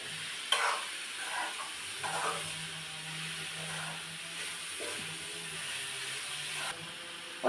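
A spoon stirs bean-leaf thoran with coconut in a pan, with faint scraping strokes and a gentle low sizzle under a quiet, steady kitchen background.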